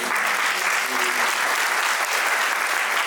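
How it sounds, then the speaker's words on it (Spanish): Wedding guests applaud for Enrique and Verito's celebration, a thick, even patter of many hands clapping at once that holds steady throughout. "Vamos a aplaudir"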